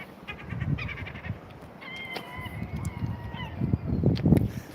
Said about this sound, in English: With absolutely loads of gulls round here.